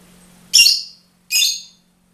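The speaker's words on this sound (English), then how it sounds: "I apologize for the bird." A pet bird indoors gives two sharp, loud squawks about a second apart, each a harsh burst that fades quickly, with a faint steady hum underneath and no talking.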